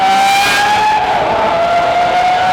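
The A12 Super Fast car accelerates hard while struggling for traction, its engine note loud and close, climbing and holding a strained whine with tire noise beneath.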